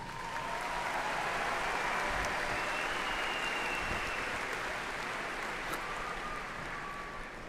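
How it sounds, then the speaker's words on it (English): Sustained audience applause for doctoral graduates at a summer commencement ceremony, a steady dense wash of many hands clapping that holds loud and even for the whole stretch before easing slightly at the end. "Please join me in extending another round of applause for our doctoral graduates."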